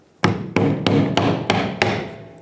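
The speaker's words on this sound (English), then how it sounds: "Now let's go backwards with a hammer." Six evenly spaced sharp hammer blows, loud and close with ringing metallic decay, tapping a fuel tank cover on a 1997-2001 Lexus ES300.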